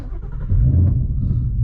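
A Whipple-supercharged Ford Mustang engine idles with a deep, loud rumble close by, jumping up briefly after half a second, then settling into a steady throaty drone.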